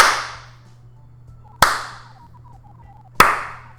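Three sharp, isolated clap-like cracks spaced evenly about a second and a half apart in the Puppy Chef Academy VR cooking game, each decaying quickly, with faint soft tones and a low steady hum between them.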